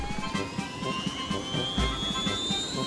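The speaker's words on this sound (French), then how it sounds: "L'hélicoptère est prêt à fonctionner." A cartoon helicopter engine spins up, a steady whine that rises slowly in pitch over a low rhythmic rotor thrum, fairly close and continuous.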